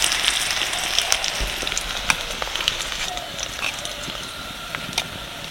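Eggs fry in oil in a wok, giving a constant crackling sizzle scattered with sharp pops and spits, close and moderately quiet.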